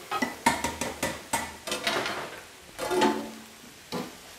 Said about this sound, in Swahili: Koroga chakula chako.